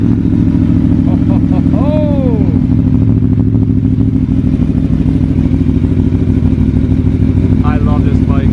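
An Aprilia Tuono V4 motorcycle engine, newly fitted with a race ECU flash and sprint filter, runs steadily and loudly throughout, a deep continuous engine drone with a couple of brief higher revving sweeps.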